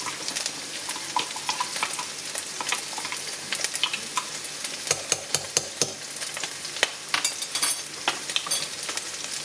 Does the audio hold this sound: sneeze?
no